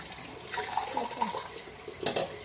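Water running from a sink tap during rinsing, a soft steady splash with a few louder gurgling bursts near the end, close by and fairly quiet.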